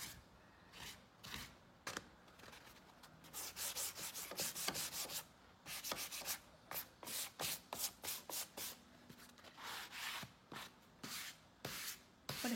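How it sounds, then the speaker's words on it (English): Clay paint on a surface is lightly buffed to rub away some of the black coat for a distressed finish. Soft, close scrubbing strokes come in quick rhythmic bursts, quiet with short pauses and no voices. "just lightly buff it to pull off some of the black."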